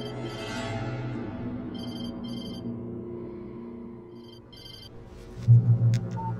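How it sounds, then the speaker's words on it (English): A telephone in Alan Wake rings in two short, bright double-trill bursts, then again later, over a low droning hum, followed by a louder thudding near the end. "She was startled by the phone."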